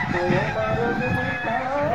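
Layer hens at a farm project in Kuakata cluck and crow in a dense, overlapping flock chorus, close and fairly loud, with a voice faintly mixed in.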